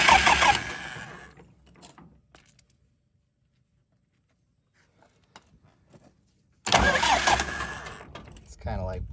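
A Massey Ferguson 180 diesel tractor engine is bumped over by the starter in two short bursts, loud cranking at the start and again after a quiet gap, with faint sounds in between.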